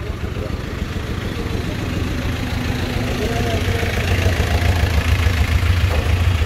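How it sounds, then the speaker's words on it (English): A tractor engine idles nearby as a steady, loud low rumble that runs throughout, while a voice talks over it. "And that tractor wants to go in."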